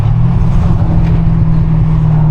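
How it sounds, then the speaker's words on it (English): A Mercedes car downshifting, its engine giving a loud, low, steady droning rev from inside the cabin, continuous through the short stretch with no talk. "Downshift again."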